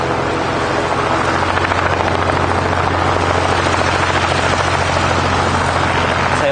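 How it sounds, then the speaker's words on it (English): A tail-dragger aerobatic propeller aircraft at a fly-in at Barton Aerodrome, Manchester, a loud continuous engine drone with a steady low hum and buzzing propeller texture, close and alone. "Very nice looking plane though. Beautiful. Obviously an aerobatics aircraft."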